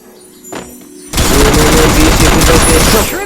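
Loud rapid gunfire in the mobile shooter Free Fire, a dense burst of automatic shots lasting a couple of seconds after a few quieter game sounds, close and overpowering.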